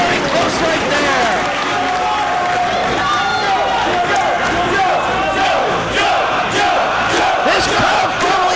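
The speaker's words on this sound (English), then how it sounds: "This crowd firmly behind Samoa Joe." A wrestling arena crowd roars steadily in support of Samoa Joe during a championship match against Bryan Danielson, with loud continuous cheering, shouts and scattered clapping beneath a commentator's voice.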